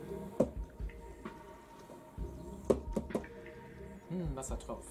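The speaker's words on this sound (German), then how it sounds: "Wassertropfen." Water drops drip in the Wii game Let's Tap, a handful of sharp, irregularly spaced plinks over a soft, murky game backdrop.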